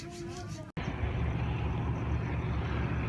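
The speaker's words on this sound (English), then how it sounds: "Sorry about the truck noise in the background." A truck rumbles past on a road at Lake Maraboon, Queensland, a steady low drone after a brief cut, with a voice faintly audible at the start.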